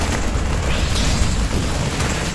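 A bunker blows apart in StarCraft 2, a loud continuous explosive rumble with a broad crackling roar that holds steady for a couple of seconds, with no talk over it.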